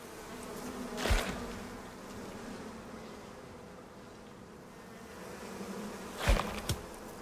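Bees buzzing in the survival game Icarus, a faint, continuous drone with two louder buzzing passes as insects fly close by, and no talking.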